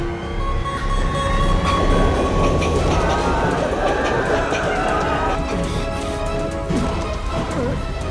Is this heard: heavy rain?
no